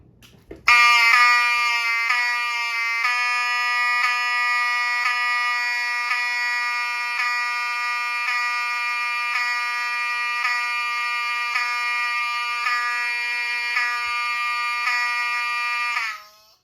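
A Honeywell-rebranded System Sensor SC807 fire alarm (7002T) sounding a loud, continuous harsh electronic horn tone, pulsing slightly in a fast, steady rhythm for about fifteen seconds before cutting off.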